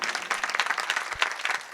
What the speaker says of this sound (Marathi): पहिले या बच्चे कंपनीसाठी सर्वांसाठी टाळ्या वाजवा बघा